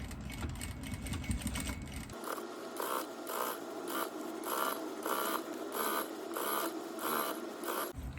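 A sewing machine stitches a seam in a heart-shaped jewelry box, running in a rapid, steady mechanical rhythm of regular pulses after a brief stretch of softer handling noise.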